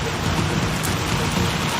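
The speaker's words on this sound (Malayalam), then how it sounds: "കോഴിക്കോട്ട് കനത്ത മഴയാണ്." In Kozhikode, heavy monsoon rain pours down alongside strong wind as a dense, unbroken hiss that stays loud and constant throughout, with no voices.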